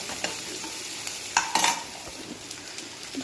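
Onions frying in a pan while being stirred, a steady sizzle with clinks and scrapes of a spoon against the pan, close and alone with no voices.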